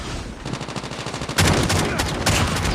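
Gunfire in Call of Duty Mobile: rapid automatic bursts that rattle steadily, then grow louder and denser partway through as heavier shots join in, close and loud with no talk.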